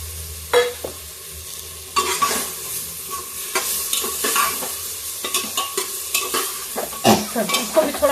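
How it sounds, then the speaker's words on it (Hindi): Soaked moong dal and bottle gourd frying in a pan, with a steady sizzle and repeated scraping strokes of a spoon stirring through the mixture, close and fairly loud. "तो इसको भी थोड़ा सा फ्राई कर लेते हैं, मूंग की दाल को भी।"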